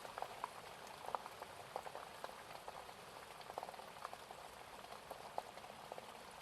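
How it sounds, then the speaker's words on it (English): Rain pelts the leaves of a tree and strikes the ground around it, a steady, faint, dense patter of drops with scattered brighter taps and no voices. "The sound of that rain as it pelts the leaves of the tree"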